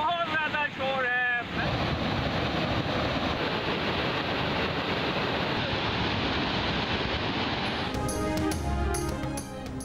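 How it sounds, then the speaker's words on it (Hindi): Floodwater pours over an overflowing reservoir on the Malir River in Karachi after heavy rains, a loud, continuous roaring rush that fills the clip, with brief talk at the start and again near the end. "मैं मलीर नदी में एक वाटर रिजर्वायर पे मौजूद हूँ जो कि ओवरफ्लो हुआ है।"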